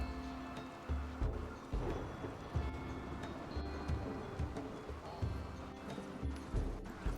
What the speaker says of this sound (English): I think the rain's ending.